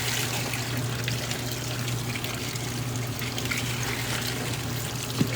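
Cold water running steadily from a tap in a basement laundry room, a continuous close rushing flow with a low hum underneath and no voices.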